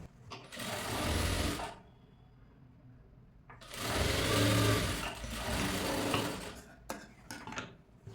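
A sewing machine stitches a princess cut blouse in two loud whirring bursts, each lasting one to two seconds, separated by quiet handling sounds.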